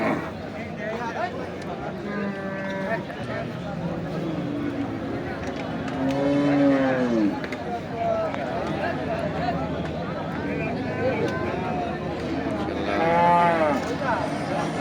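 Cattle moo several times over a noisy crowd at a livestock market, with people talking throughout and two long, drawn-out lows standing out clearly.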